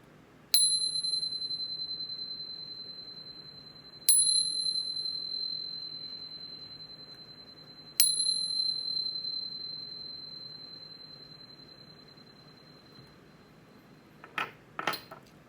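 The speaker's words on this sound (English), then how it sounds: "But first, let's chime." A chime bell struck three times at even intervals, each strike ringing out clear and bright with a long sustained decay, followed by a couple of quick fainter metallic taps at the end; no voices.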